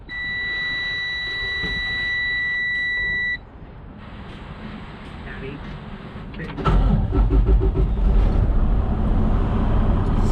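A 2013 Freightliner Coronado truck cranks and starts, preceded by a steady high warning buzzer that cuts off, then the engine catches into a loud, rough cold idle.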